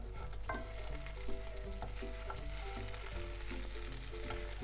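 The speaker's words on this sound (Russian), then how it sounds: "И недолго обжариваю под закрытой крышкой." Fritters fry under a closed lid in a pan, giving an even, muffled sizzle that hisses steadily throughout with faint crackles, and no talking.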